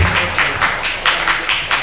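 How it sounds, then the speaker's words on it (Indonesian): Steady applause from a crowd, dense hand claps swelling in several quick pulses, fairly close and loud, with no talking. "Tepuk tangan untuk Bumdesma Dasa Karya Mandiri"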